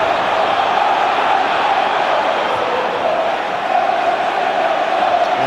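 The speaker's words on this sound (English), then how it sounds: "The crowd are lifted." Football crowd at Everton versus Middlesbrough, 2009 FA Cup quarter-final, a dense continuous stadium roar of cheering and noise, loud and unbroken throughout.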